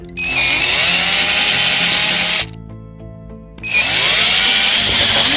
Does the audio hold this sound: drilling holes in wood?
yes